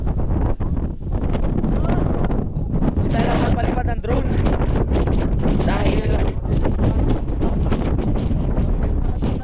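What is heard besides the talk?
strong wind on a mountaintop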